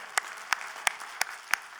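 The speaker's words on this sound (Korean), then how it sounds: "뜨거운 박수 하나님께 올려드리겠습니다" At a Christmas Sunday church service, a congregation claps in a slow, evenly spaced rhythm, five or six distinct claps ringing out over a soft background hum.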